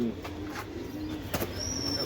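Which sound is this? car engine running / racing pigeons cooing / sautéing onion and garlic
racing pigeons cooing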